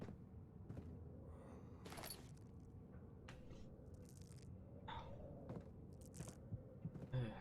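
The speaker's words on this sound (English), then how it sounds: "Sounds like something crunching in my ear." Faint, quiet crunches and scrapes sound in sparse bursts inside the dark horror game Amnesia: The Dark Descent, with soft rustling between them.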